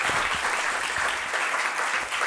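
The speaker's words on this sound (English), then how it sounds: "let's give them a warm applause" An audience at a conference on learning histories applauds warmly, a dense, steady wash of clapping that holds at full strength for the whole stretch and tails off only slightly at the end.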